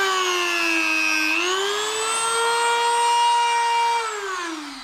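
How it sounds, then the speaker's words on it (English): Small Dremel rotary tool cutting through the rubber of an anti-lift kit bushing for a Toyota Starlet, a loud, steady high-pitched whine that rises in pitch partway through and dips near the end. "I'm gonna try to give it a go with my little Dremel and see if it improves."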